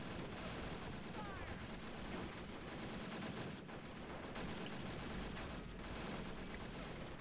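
Gunfire rattles through a Men of War: Assault Squad 2 battle as a dense, unbroken wall of shots and bursts. The loud battlefield noise runs steadily throughout, with sharp cracks standing out now and then.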